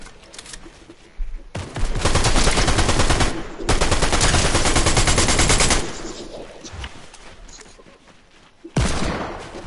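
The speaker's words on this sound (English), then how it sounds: "why are people shooting at me?" Heavy automatic gunfire from other players in the video game Fortnite, loud sustained bursts rattling for several seconds, pausing, then resuming with a shorter final burst.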